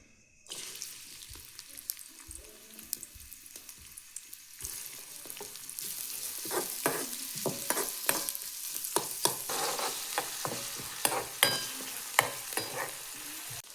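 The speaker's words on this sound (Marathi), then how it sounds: "तेल तापल्या तर कांदा टाकून घेते" Onion hits hot oil after a quiet start, bursting into loud crackling sizzle with sharp pops and stirring scrapes that keep building.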